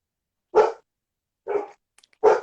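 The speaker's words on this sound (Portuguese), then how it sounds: "Vocês desculpem aqui essa cachorrada. Eu tenho 5 Golden Retrievers" Golden Retrievers bark at a rural property, with three separate, fairly loud barks spaced about a second apart against near silence.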